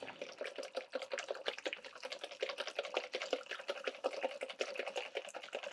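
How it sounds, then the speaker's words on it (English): A honey custard mixture is whisked briskly in a bowl, making a fast, even run of light ticking clicks that carries on steadily and quietly from start to end, with no talk. "Now you want to mix this and whisk it well"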